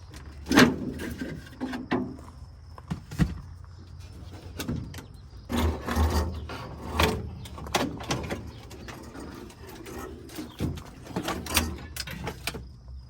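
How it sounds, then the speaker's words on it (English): Wooden floorboards pried out of an antique truck's cab floor, giving scattered knocks, scrapes and creaks of loose boards at close range with uneven pauses between them. "Next, we have to remove a couple of these floorboards."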